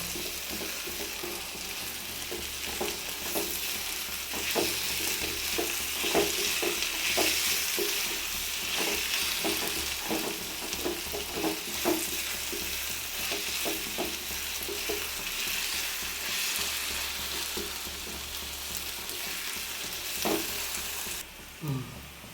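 Onions fry in a pan while being stirred until brown, the first step of a pomfret fish dish. A dense, continuous sizzle runs throughout, with rapid repeated scrapes and clinks of the stirring utensil, close and loud.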